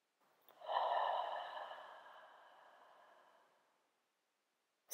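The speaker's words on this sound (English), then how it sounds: "Deep breaths, inhaling and exhaling." A single slow, deep breath during a quiet yin yoga pose, a soft airy exhale that swells and then fades out over several seconds, close and alone.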